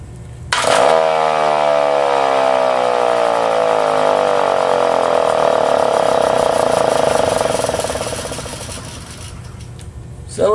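Old Federal Model 2 series-wound motor running on direct current, spinning up with a rising whine and rough buzzing, holding steady at speed, then slowing down as it coasts.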